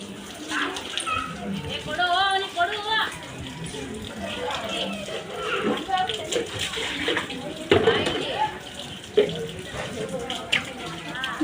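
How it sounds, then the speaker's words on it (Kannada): Tap water splashes and runs steadily in the background while children and adults talk and call out over it. "ನೋಡ್ರಿ ನೀರು ಬಿಟ್ಟಾರೆ. ನೀರು ಬಂದವು."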